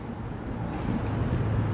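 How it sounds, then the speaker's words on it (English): Car driving around a Chicago city street making a bunch of noise, a steady low engine rumble that builds slightly, with general traffic roar and no talk. "That's the car that's making all the noise."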